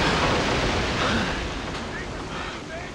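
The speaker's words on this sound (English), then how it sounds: "you'll hear a raging storm." In the King Kong video game, a raging storm at sea roars as a dense, steady wash of wind and crashing surf that eases slightly over time, loud and enveloping, with no talking.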